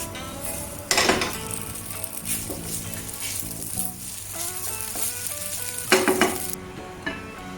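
A spatula clatters and scrapes in a pan as fried rice for Japanese omurice is flipped and stirred, with steady sizzling frying underneath and a few louder clanks, no talk, with music playing along.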